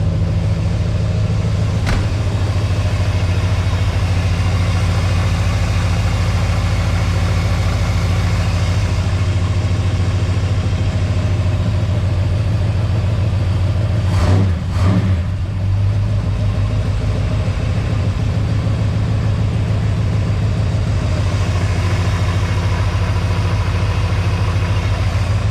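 A 1946 Chevrolet pickup's 350 small block V8 with low compression runs steadily, a loud continuous low rumble with faint metallic rattling and a brief disturbance midway, close by and without talking.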